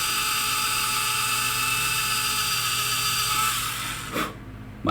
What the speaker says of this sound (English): take a micro drill and very carefully drill through